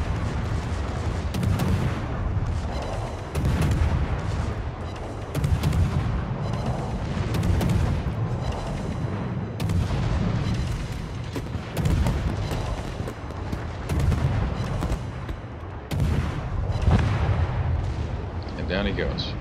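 Warship main batteries fire in a World of Warships naval battle, with repeated heavy booming salvos rolling under constant loud gunfire and engine rumble, and a voice speaks over the action.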